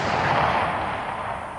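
A CZ527 bolt-action rifle in 7.62x39 at an outdoor range: the sharp report has already passed, leaving a loud, fading boom and echo tail.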